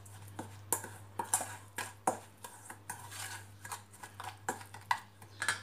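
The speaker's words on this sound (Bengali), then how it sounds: "মশলাগুলো ভালো করে মিক্স করে নেবো।" Spices for grilled lamb chops being mixed in a bowl with a spoon: close, irregular clinks and scrapes against the bowl over a faint steady hum, with no talking.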